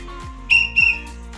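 A tour guide blows a whistle twice: two short, shrill blasts in quick succession, clear and close, with quiet surroundings and no talk.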